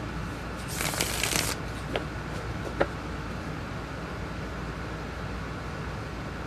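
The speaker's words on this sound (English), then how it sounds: "Shuffling cards is so soothing." Tarot cards are shuffled in a quick papery riffle lasting under a second near the start, followed by a couple of soft taps over a quiet room hiss, with no talking.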